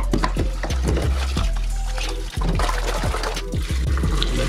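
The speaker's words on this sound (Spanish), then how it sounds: "antes de volver a hervir, vamos a enjuagarle con agua hervida" A bone is rinsed with boiled water, giving close, continuous splashing and sloshing with quick repeated pours and light knocks against a container.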